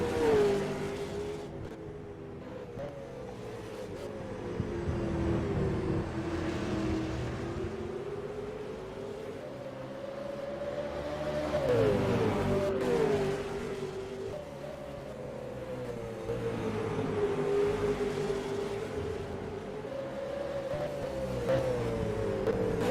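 V8 Supercar engines racing at Tailem Bend in rFactor 2, a steady loud drone rising and falling as the cars accelerate and shift, with a higher engine note sweeping past midway.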